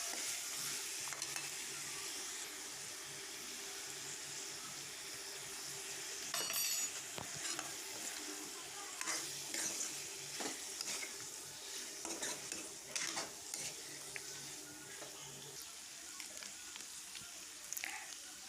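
Local chicken meat frying in a pan with onion, ginger, garlic, turmeric and salt, a steady soft sizzle with occasional stirring scrapes and light clinks of a spoon against the pot, close and continuous.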